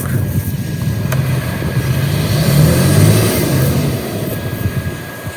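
A car engine revs hard while the vehicle sits stuck in soft sand in the Empty Quarter desert, a steady loud low roar that swells in the middle and eases off, with no talking.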